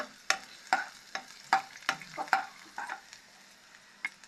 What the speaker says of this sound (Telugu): కొంచెం పీస్గా తరిగిన తెల్లగడ్డలు ఇంకా మనం కొద్దిసేపు దాన్ని కలపాలి ఫ్రెండ్స్ బాగా.